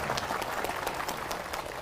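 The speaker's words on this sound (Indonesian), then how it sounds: "Barulah tepuk tangan." An outdoor crowd on an open field claps steadily, a dense wash of many hands with a few sharper claps poking through, continuous and moderately loud for the whole stretch.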